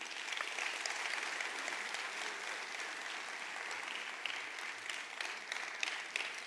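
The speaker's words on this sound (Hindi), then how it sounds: "एक जोरदार तालियां होनी चाहिए" Audience applause at a network marketing seminar, a dense, steady patter of many hands clapping, moderately near, that holds evenly for several seconds.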